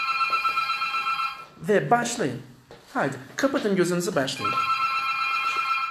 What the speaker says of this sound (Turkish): Şu telefon dikkatimiz dağıttı.